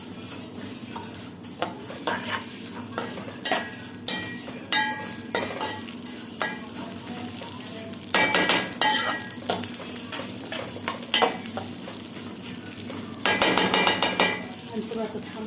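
Chicken pieces sizzling in a hot frying pan while a utensil stirs and scrapes against the metal, with repeated clinks and bursts of louder frying, close and fairly soft, without talk.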